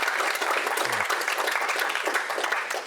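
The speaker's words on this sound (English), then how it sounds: "Can I just get one final round of applause for all the fantastic students" Audience applause at a student members' meeting, a dense, steady clatter of many hands clapping that fills the whole stretch at an even level.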